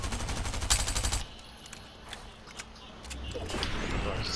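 A rapid burst of automatic gunfire opens a Fortnite match, followed by quieter scattered shots and footsteps, then rumbling as the action picks up again near the end.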